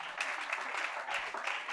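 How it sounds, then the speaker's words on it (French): A church congregation applauding during worship, dense sustained clapping with a few brighter bursts, moderately loud and filling the room. "acclame Jésus"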